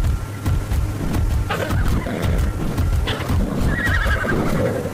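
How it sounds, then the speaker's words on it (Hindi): A horse neighs and whinnies loudly and repeatedly in the mobile version of the survival video game Ark Survival Evolved, with outdoor ambience and faint rumbling underneath. "भाई घोड़ा किस तरफ से आवाज़ कर रहा है मुझे पता नहीं चल रहा है"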